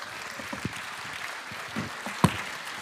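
Scattered applause from the audience at the EOES 2023 closing ceremony in Riga, Latvia, a diffuse low patter of clapping hands with a few louder individual claps, moderately quiet throughout.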